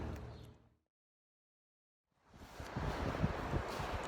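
Gusty wind roars and rumbles against the microphone on an open beach in southern Maine, cutting out briefly to near silence before blustering back in strongly.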